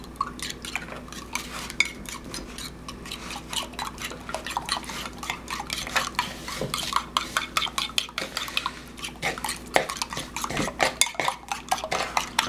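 Butter being beaten in a bowl with a utensil for oat and cinnamon biscuits, giving repeated close tapping and scraping knocks against the bowl in an irregular rhythm with no talk.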